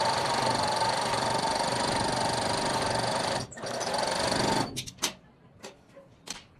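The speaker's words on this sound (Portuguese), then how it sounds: "Vou distribuindo e costurando." A sewing machine stitches the side seam of a garment, running in a loud, steady whir for several seconds before a brief pause. It then gives way to a few short, spaced bursts of stitching.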